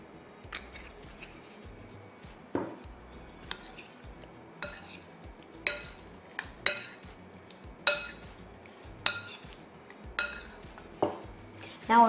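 Chicken tossed in sauce in a bowl with olive oil added, giving sharp spoon-on-bowl clinks and scrapes at irregular intervals against a quiet kitchen background.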